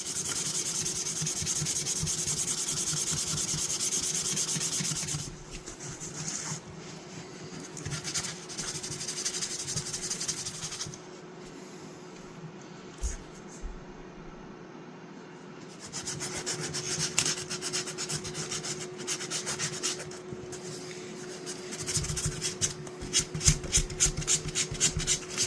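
An old Sears Craftsman utility knife blade is sharpened, giving a continuous close rasping and rubbing scrape with brief pauses and faster strokes toward the end, alone with no talk.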